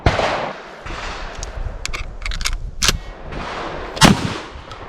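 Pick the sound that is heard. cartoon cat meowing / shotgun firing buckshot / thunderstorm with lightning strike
shotgun firing buckshot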